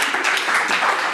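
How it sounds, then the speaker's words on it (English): Audience at a lightning-talks meetup applauding, a short burst of dense clapping. "Round of applause."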